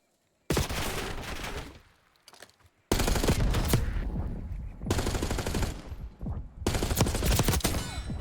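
Gunfight in the video game Black Ops 6, with loud automatic gunfire in several long sustained bursts. A brief lull near the start breaks the fire before it resumes and continues almost without pause.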